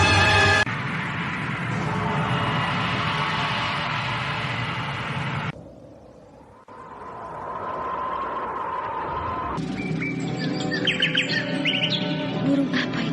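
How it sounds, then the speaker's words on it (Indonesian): Birdsong of the Kinara bird sounds in an Indonesian radio drama: steady chirping and trilling over a dense background, a brief dip near the middle, then brighter warbling notes. "Oh, suara burung itu bagus sekali"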